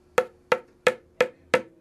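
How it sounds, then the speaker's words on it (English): Tabla drum struck without its black tuning paste spot, giving a bongo-like tone: five sharp, clear hand strikes at an even, steady pace, each decaying quickly, close and alone. "So it sounds more like a bongo."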